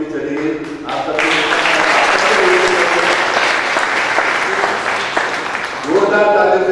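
An audience at a Hindi-language public event breaks into loud, sustained clapping that swells and holds for several seconds, with a voice speaking over the start and again as it fades.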